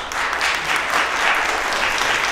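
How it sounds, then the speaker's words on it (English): At a T-Mobile Poland 5G press conference, an audience claps steadily as a company president takes the stage, a continuous wash of many hands clapping at moderate loudness for a couple of seconds. "thank you very much for the nice applause"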